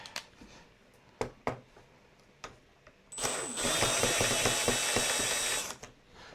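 Power driver whirring steadily for a few seconds as it backs screws out of a purple F-22 Raptor model kit, preceded by sharp clicks and taps of handling parts nearby.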